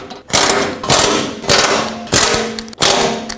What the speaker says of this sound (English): At this point I can come in and tighten up these two bolts that are inside there.